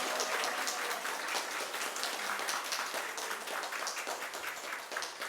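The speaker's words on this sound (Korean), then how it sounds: "알아서 박수도 치시고" Sustained congregational applause at a Korean Full Gospel church service welcoming a missionary to the stage, dense and even throughout, moderately distant and fairly quiet.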